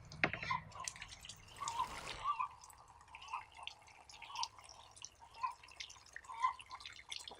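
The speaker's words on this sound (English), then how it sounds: "normally I'm gonna rinse the bird off" Running water rinses a freshly slaughtered bird, a faint, steady trickle with scattered drips and splashes, quiet and distant throughout.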